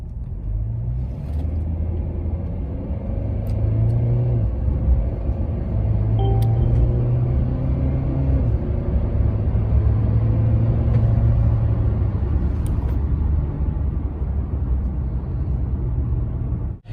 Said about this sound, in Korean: 저희가 스포츠 모드에 놓고 가속을 했었는데요